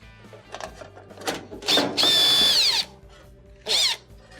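A power drill backs a ground screw out of a GE dryer during repair: a long, loud whirring burst, then a second short burst, with light handling clatter before and between.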